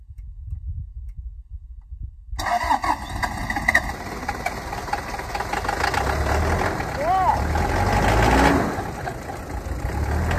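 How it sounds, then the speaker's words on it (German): Car engine cranking and starting in cold weather at high altitude near the Salar de Uyuni in Bolivia, a sudden catch after a quiet start that settles into a steady rough idle up close, with a brief voice partway through. "Starting the car would be nice."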